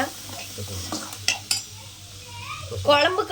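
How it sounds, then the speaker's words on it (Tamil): Small shallots sizzling in hot oil for a okra tamarind curry, with a spoon scraping and clinking against the pan in a few sharp strokes over a steady low hum. "சின்ன வெங்காயத்தை நல்லா சேர்த்துக்கோங்க. இதில் வதக்குங்க"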